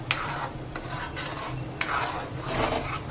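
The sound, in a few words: stirring creamy white pasta sauce with black pepper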